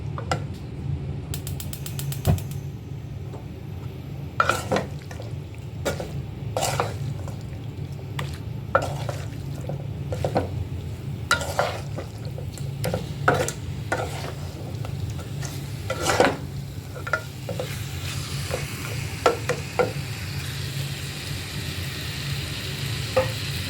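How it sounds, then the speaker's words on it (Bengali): Chicken pieces sautéed in mustard oil in a pan for chicken tehari: a constant low sizzle with repeated scraping clanks of a spatula every second or two, close and without talk. "চিকেনগুলো কিছুক্ষণ কষিয়ে পরে পানি দিয়ে দেবো"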